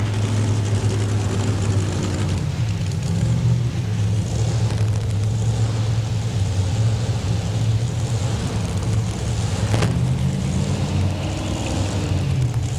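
A two-wheel-drive pulling truck at a 1992 NFMS truck pull in Louisville, Kentucky, roars with a deep, steady, heavy engine drone throughout, loud and unbroken, with a brief sharp knock near the end.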